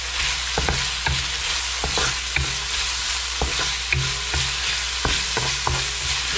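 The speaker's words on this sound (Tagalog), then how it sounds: "naluluto na po itong ating bawang at sibuyas" Garlic and onion sizzle steadily in a pan for a beef curry, with a spatula clicking and scraping against the metal in irregular strokes, close and fairly loud throughout.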